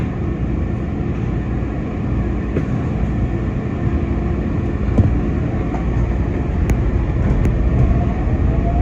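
A Market-Frankford Line subway train pulls away, filling the space with a loud, steady rumble and roar of wheels on rail, with faint squeals and clicks rising now and then over the continuous drone.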